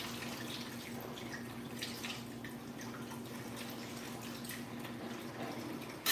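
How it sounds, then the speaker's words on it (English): Tap water runs steadily into a sink as a dough cutter is rinsed during butter chicken cooking, a continuous close splashing hiss with faint drips and no talk. "I'm just gonna rinse the dough cutter off."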